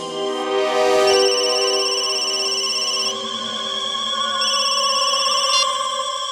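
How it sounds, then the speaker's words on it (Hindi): A mobile phone rings with an incoming call, playing a steady electronic ringtone melody of sustained tones that shift pitch in sections. The ringing is loud and close, with no talking over it. "जैसे ही मैं अंकुश के कैबिन से बाहर निकल रहा था उसके मोबाइल पर एक कॉल आया था।"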